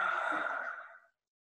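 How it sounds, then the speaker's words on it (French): A forceful lion's breath exhalation during a vinyasa yoga flow, tongue stuck out, comes as a single loud breathy sigh. It stays steady for about a second, then fades out, with no talk over it. "La respiration du lion, on appelle ça"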